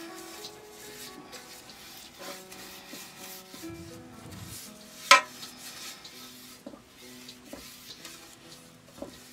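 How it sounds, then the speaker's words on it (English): A pastry brush spreads olive oil around a Crusader pan, giving soft, close rubbing and light scraping strokes in an irregular rhythm, with one sharp tap of utensil on the pan partway through. "Brush it all around the pan."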